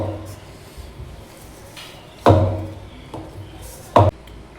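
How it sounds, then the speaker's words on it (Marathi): Oiled moong papad dough is pounded by hand, giving a couple of sharp heavy thuds amid softer knocks and rubbing, close and intermittent. "तेल लावू आणि मग कुटून घेऊ"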